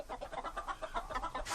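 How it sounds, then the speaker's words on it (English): Chickens riding in freight cars cluck in a quick, steady patter of short calls, close and continuous for a moment. "No, those are chickens."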